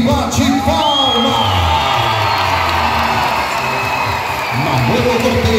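Circus audience under a big-top tent cheering, whooping and shouting together in a loud, sustained crowd roar, with children's shrieks rising above the noise.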